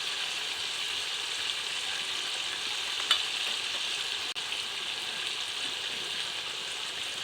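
Spices with sugar and chili powder fry in a pan with a steady, even sizzle throughout, close and moderately quiet, with one faint clink partway through and no talk.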